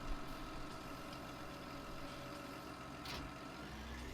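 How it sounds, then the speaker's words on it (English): A farm tractor engine runs steadily at a low idle, a constant droning rumble with a faint brief clatter partway through and no talking. "So we'll jump in our tractor here."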